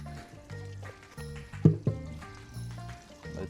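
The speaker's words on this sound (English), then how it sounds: "I'll get a hose and we'll start hosing" Water from a hose splashes and gurgles into the fuel tank of a BMW K100 motorcycle that has sat unused since 2007, with quiet liquid sloshing and a couple of sharper splashes.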